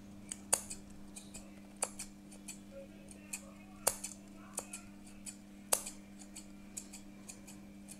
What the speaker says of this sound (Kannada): ಶಾರ್ಟಾಗಿ ಕಟ್ ಮಾಡ್ತಾಯಿದ್ದೀನಿ.